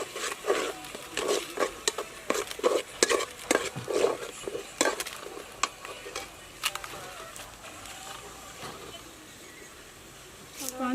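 A spoon stirs and scrapes a spiced biryani masala with coriander powder around a cooking pot at an outdoor village kitchen, with repeated rhythmic close strokes that soften later, and a voice talks over it.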